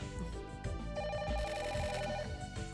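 A telephone rings in the video game The Silver Case, a repeated tonal ring buried in a dense, loud mix of game music and sound.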